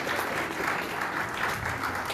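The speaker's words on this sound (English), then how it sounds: "clap your hand." A church congregation claps hands together during a Sunday sermon, a steady dense patter of many palms filling the room without any voices over it.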